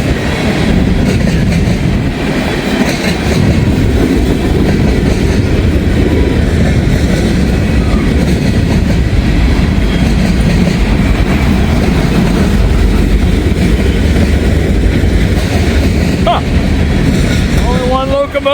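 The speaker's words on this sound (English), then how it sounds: "only one locomotive today, pulling all these empty gons" A long freight train of empty gondolas behind a single locomotive rolls past close by, a loud continuous roar and rattle of wheels and cars that carries on without a break, with wind buffeting throughout.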